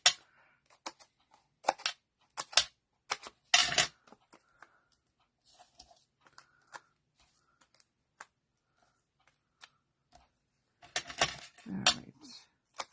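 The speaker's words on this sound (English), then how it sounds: "let's take our scissors here and just cut some of these." Scissors cut through paper for card making in a series of short, sharp snips and crinkles, sparse at first and then clustered near the end, with quiet pauses between them.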